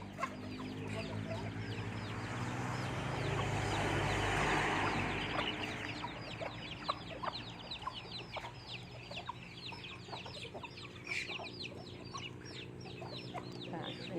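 Thai fighting cocks clucking repeatedly in short, close bursts against steady outdoor background noise, with a rushing swell of sound early on and faint voices in the distance.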